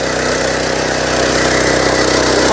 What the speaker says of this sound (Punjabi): ਇਹ ਜਿਹੜਾ ਟਰੈਕਟਰ ਆ ਮਿੰਨੀ ਟਰੈਕਟਰ ਆ